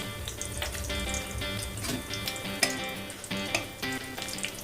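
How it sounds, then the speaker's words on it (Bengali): Nigella seeds and two dried chillies crackle in a small amount of oil, a moderate sizzle with scattered pops and light clatter, over quiet background music. "এখন এই তেলের মধ্যে আমি দিয়ে দিচ্ছি কালো জিরে আর 2টো শুকনো লঙ্কা"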